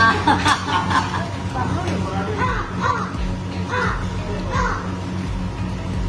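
A person imitates a crow's caw, giving several harsh, nasal calls in a row amid surrounding chatter and voices, fairly loud and close.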